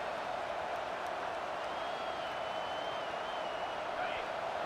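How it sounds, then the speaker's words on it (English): A continuous stadium crowd roar holds steady and loud throughout a college football video game, Alabama at Texas, as fans cheer on a third-down defensive stand, with no talking over it. "Decibels rising as the crowd gets behind this defense on 3rd down."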